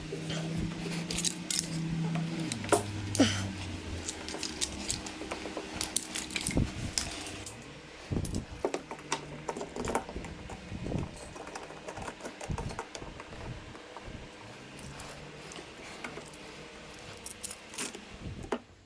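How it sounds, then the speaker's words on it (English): Clamps being fitted onto turf-covered jet ski side rails, a close, busy run of metallic clicks, ratcheting snaps and handling clatter that thins out into sparser knocks. "I'm gonna start applying the clamps so that it don't come up"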